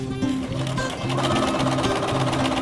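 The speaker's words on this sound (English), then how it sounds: "You can zigzag right to the edge." Sewing machine running a zigzag stitch along the edge of fabric, a loud, close, steady mechanical whir with a rapid needle rhythm and no talk over it.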